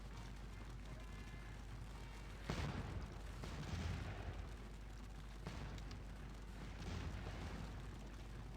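Musket volleys from a firing line in the video game Scourge of War: Waterloo, distant crackling bursts of fire rolling out in a few waves over a constant low rumble, with voices talking beneath.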